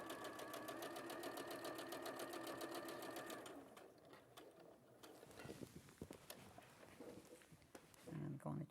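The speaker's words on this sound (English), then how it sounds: "So I'm simply doing sewing these 2 pieces together." A sewing machine stitches two fabric triangles together, its fast, even needle rattle running steadily and close for about three seconds before stopping, followed by quieter handling sounds and a few soft clicks.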